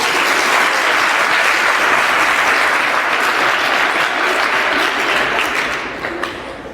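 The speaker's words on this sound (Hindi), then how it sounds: "अब आप इतनी सारी ताली बजाओ" Dense, sustained audience applause from a crowd at a live Hindi comedy stage show, loud and continuous throughout, tapering off slightly near the end with no talk over it.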